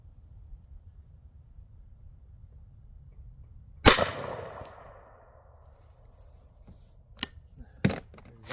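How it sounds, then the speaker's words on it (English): A Rossi Tuffy 45lc/410 shotgun fired outdoors: one loud sharp shot with a decaying tail, followed by a couple of quieter, sharper cracks near the end. "Another 3 shots of the same ammo on the other target."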